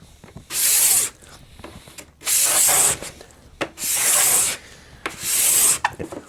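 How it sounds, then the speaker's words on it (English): A tool scrapes dried glue off a wooden Telecaster guitar body in four long rasping strokes with short pauses between them, close and fairly loud. "I just want to scrape this glue off."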